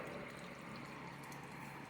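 Small waterfall spilling into a fish pond on an urban farm, a faint, steady splashing and trickling with no voices.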